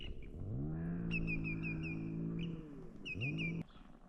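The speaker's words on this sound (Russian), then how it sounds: "изредка среди деревьев видны и слышны проезжающие машины" A car engine drones steadily nearby, then fades and returns as another vehicle passes, with faint high whistling birdsong above.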